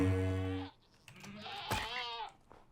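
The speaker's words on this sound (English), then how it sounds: "This is definitely a screaming goat." A screaming goat in the Minecraft video game gives a harsh, buzzing bleat, then a second wavering, rising scream-like bleat, nearby and fairly quiet with no talking.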